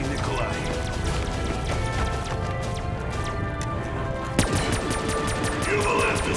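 Sustained minigun fire in a video game, a dense continuous roar of rapid shots filling the whole span, with a sharp crash near the end over ongoing game noise.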